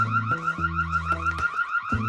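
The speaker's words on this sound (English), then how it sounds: "There's our security camera up there. Noisy, isn't it?" A security camera's loud electronic siren pulses in a rapid repeating warble, close and continuous, with no voices.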